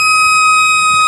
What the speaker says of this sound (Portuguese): A sirene aí da Macaca, a sirene do estádio Moisés Lucarelli. Hoje tocou de novo.